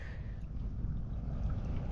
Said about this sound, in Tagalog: ito yung trolling motor na sinasabi ko